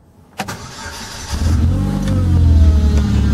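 A Pontiac Solstice with an EFR turbo upgrade fires up after a click and brief crank, then settles into a loud, close, growling engine note that swells and holds, running a little rough.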